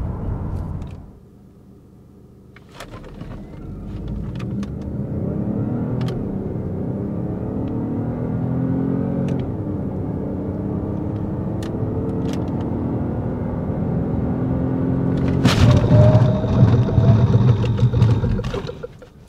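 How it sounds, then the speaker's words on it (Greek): A Peugeot 3008 Hybrid pulls away hard from a standstill, its drivetrain droning and rising steadily as it accelerates, then brakes toward the end with a brief rough burst; heard from inside the cabin, loud and continuous. "ας το μετρήσουμε και ας δούμε τι θα κάνει στο 0-100 και 100-0"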